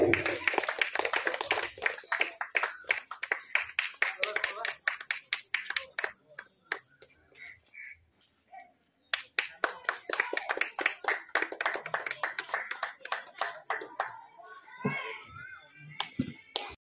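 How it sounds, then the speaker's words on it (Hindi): Audience at a Kosli poetry gathering claps for an honoree, a long run of rapid scattered hand claps that pauses briefly midway then resumes, with children's voices chattering throughout. "जोरदार ताली तो देमा समस्ते"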